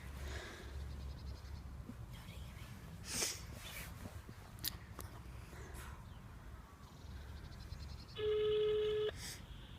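A telephone call is dialed in a quiet room, with faint soft taps and rustling that end in a steady electronic tone lasting about a second.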